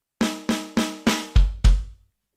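Drum kit playing one sextuplet group: four crisp snare strikes followed by two heavier bass drum thumps, six evenly spaced hits in a quick burst, close and alone.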